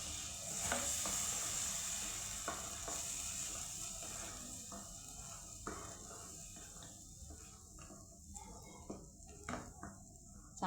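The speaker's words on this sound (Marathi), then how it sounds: "चांगले याला तेल सुटेपर्यंत शिजवायचं आहे." Onion and cashew paste frying in oil in a pan for a kaju curry gives a steady sizzle, with occasional stirring scrapes and clinks of a utensil against the pan. No one speaks.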